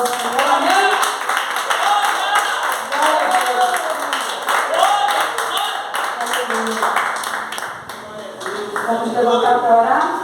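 A church congregation claps in praise to the Lord, with steady rhythmic clapping running under ongoing speech or singing voices throughout.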